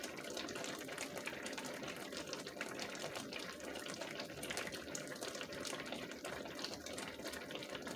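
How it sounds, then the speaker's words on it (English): Shakshouka simmers in a pan on low heat, a dense, steady bubbling and fizzing that stays even and close throughout, with no voices. "it's bubbling at the right level"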